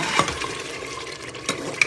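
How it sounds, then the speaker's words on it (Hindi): Masala frying and being stirred in a pan for masala chops, with scraping utensil strokes and a soft, steady fry underneath. "5-6 मिनट हुए हमें इसको भूनते हुए।"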